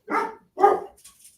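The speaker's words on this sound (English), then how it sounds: "Oh, my dogs are going crazy." Dogs indoors barking: two short, sharp barks close by, followed by a faint, higher yip or whimper, with no talk over them.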